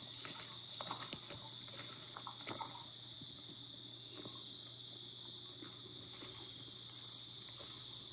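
Crickets chirp in a steady, continuous high drone outdoors in woods, faint and distant, with light scattered ticks and patters in the background and no voices.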